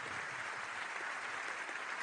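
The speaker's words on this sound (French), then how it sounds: "Applaudissements nourris à la fin du discours." Sustained applause at the end of a political speech, a steady dense wash of clapping from a large crowd, even and continuous throughout.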